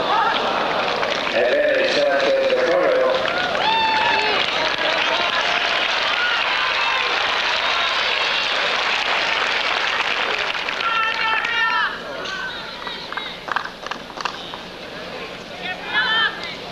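A tennis crowd applauding at a 1991 women's match at Hilton Head, with loud, dense clapping and cheering that runs throughout and thins toward the end, as voices and whistles rise through it.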